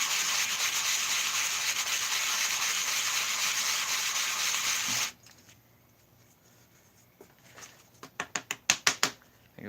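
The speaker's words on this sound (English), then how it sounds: "A little bit of sanding." Hand sanding with 120-grit sandpaper on a carved wooden staff with a scroll and dragon, a close, continuous loud rasping for about five seconds, then quiet followed by a burst of short rhythmic strokes.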